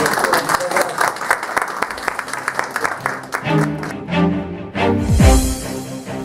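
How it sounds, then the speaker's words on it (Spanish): Audience at a hospital event clapping for a doctor, scattered rapid claps for several seconds that give way to voices and talk near the end. "Un aplauso para"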